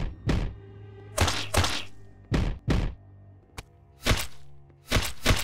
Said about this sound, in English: This is like the squelching and the thump thump sounds.